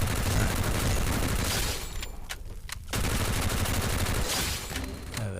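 Gunfire in the video game Garena Free Fire, rapid bursts of automatic shots with a short lull midway, steady and fairly loud, no talk.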